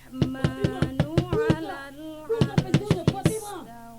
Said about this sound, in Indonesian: Umar mengetuk pintu rumah adiknya keras-keras.